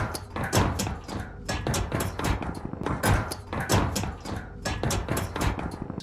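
Ladder climbing in the video game Warzone, a steady series of hollow metallic thuds and clanks repeating in a regular stepping rhythm, close and fairly loud with nothing else over it.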